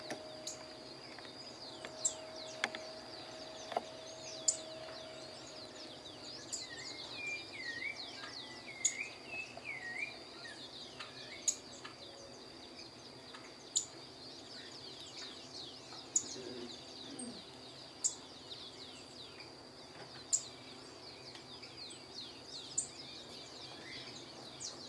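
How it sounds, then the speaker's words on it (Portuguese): A black-and-white jay calls in a patch of woods, giving sharp, scattered cries at a moderate distance over a constant bed of insect chirring and soft cooing birds, with no voices. "Ali tem uma gralha branca e preta"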